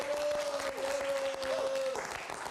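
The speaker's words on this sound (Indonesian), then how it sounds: "Kita berikan tepuk tangan dulu untuk Nurul." Studio audience applauding a news reporter, a dense, continuous patter of many hands at moderate distance, with a steady held tone running through most of it before it eases off.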